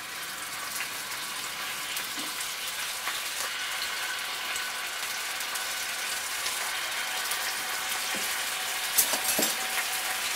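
Crushed ginger sizzles and crackles steadily in hot oil, a bright continuous frying hiss with a few clinks of a utensil near the end.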